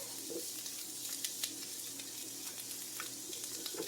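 Thin carrot sticks and savoy cabbage cook in a pan with a faint, steady sizzle and occasional soft crackles and stirring clicks, with no one talking.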